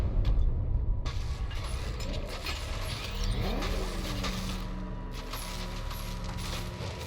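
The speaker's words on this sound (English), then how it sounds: "I see you're back in the car, Master Bruce." The Batmobile drives in the video game Batman Arkham Knight, its engine a loud continuous rumble with surging revs, mechanical clanks and sharp effects layered on top, no talking.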